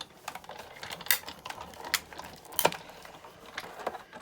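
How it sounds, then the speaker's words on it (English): A Sizzix Big Shot die-cutting machine is hand-cranked to cut a window in a snowman card, giving a quiet run of mechanical clicks and ratcheting creaks at a steady pace, close by with no talking. "Run it through my big shot and get rid of my machine."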